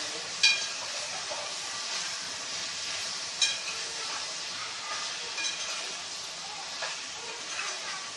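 Ridge gourd (turai) stirred in a pan while it cooks, a steady soft sizzle and steam hiss with a few faint scraping stirs, no talk.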